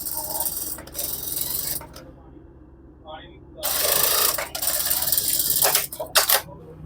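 A sewing machine stitching buckram runs in bursts of fast, buzzing stitching with pauses between, close and fairly loud, while someone talks over it.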